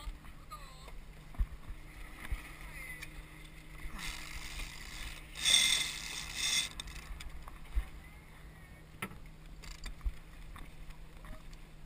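A small sailboat tacks on a lake, with rigging and mechanisms giving a steady rush of wind and water plus a louder flapping, rattling swell midway and scattered creaks and knocks.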